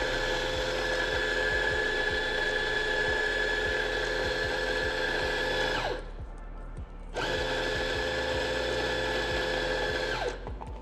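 Coffee grinder grinding beans to a finer setting: a loud, steady whirring grind runs for about six seconds, stops briefly, then starts again and runs to the end.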